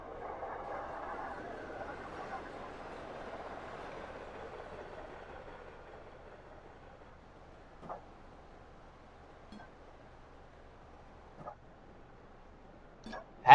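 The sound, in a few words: EMD SD40-2 freight train passing, Train Simulator 2017 video game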